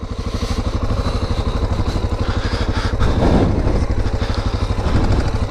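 A dual-sport motorcycle engine, the kind of XR650 or DR650 bike ridden on a trail, runs steadily close by with a rapid, even thump and a slight rise in revs near the end.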